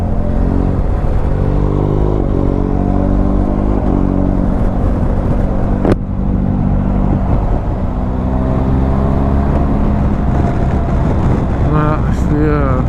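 A car engine revs hard past 4000 rpm, its loud droning tone climbing and falling continuously while people talk over it throughout.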